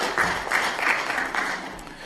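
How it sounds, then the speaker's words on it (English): Applause from an audience at the official closing session of a meeting, loud and close, with a few distinct claps rising above a steady clapping bed. "So a round of applause for each of the organizations."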